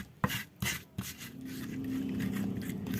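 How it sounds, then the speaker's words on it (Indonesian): Spices and palm sugar being ground together in a stone mortar with a pestle for Sundanese cucumber reuceuh: a few sharp scraping strokes at first, then a steady continuous grinding rub, close and moderately loud. "Lalu kita ulek sampai tercampur merata ya."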